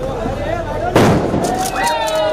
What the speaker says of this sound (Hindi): भाई पटाखा मत फोड़ो